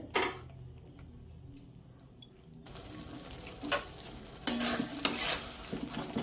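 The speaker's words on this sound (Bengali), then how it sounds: "মশলাটা আরেকটু কষা হবে, টমেটোগুলো গলে যাবে।" Masala with tomatoes frying in a pan, starting quiet with faint scrapes before the sizzle rises, then periodic stirring strokes and utensil clinks against the pan, close and moderately quiet.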